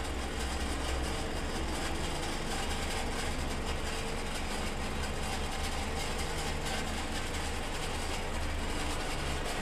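Hoist of a 2020 Isuzu NRR roll-off truck pulling a drop box container up the rails, a steady loud engine and hydraulic drone with a continuous rumbling mechanical whine and no pauses.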